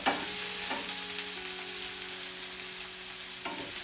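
Onions sizzling in a frying pan while being tossed for a steak hash, a constant close hiss with a few soft clunks as the pan moves, alone and without talk.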